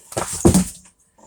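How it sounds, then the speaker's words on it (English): A cat jumps into a box indoors and knocks it over, giving a short muffled rustle and thump followed by a heavier tumbling clatter that quickly fades to quiet. "that was the sound of a cat jumping into a box and knocking it over"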